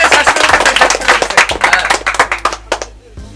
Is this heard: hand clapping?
yes